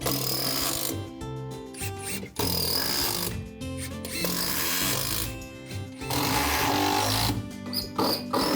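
Bolts being tightened and screws driven with a power tool in the cramped space under a floor during carpentry on a cypress alcove, loud whirring bursts separated by short pauses.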